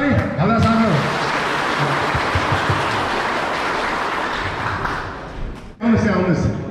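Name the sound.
audience applause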